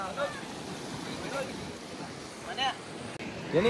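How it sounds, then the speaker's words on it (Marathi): Rough surf churns and crashes under gusting wind buffeting the microphone, with brief voices breaking through now and then. "बघा ना काय खतरनाक आपटतं दनादन पाणी"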